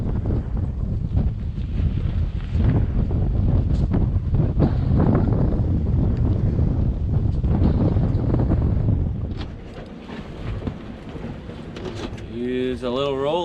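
Strong wind blowing across a rolly boat anchorage in Turtle Bay, a loud continuous buffeting roar that drops off near the end, with a voice speaking over it.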